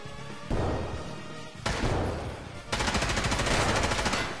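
Gunfire in the shooter game Escape from Tarkov: loud bursts of rapid automatic shots in several clustered volleys, the last stretch a sustained string of close, sharp reports.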